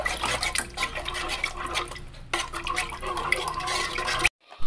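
Water poured into ground rice in a bowl and mixed by hand for palappam batter, a busy splashing, sloshing liquid sound that runs close and steady, breaks briefly midway, then stops abruptly near the end.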